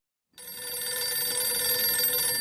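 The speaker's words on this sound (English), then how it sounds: "What am I supposed to do with a ringing phone?" An electronic telephone bell starts abruptly after a short silence and rings on continuously with a bright, trilling tone, fairly quiet and steady, with no one speaking.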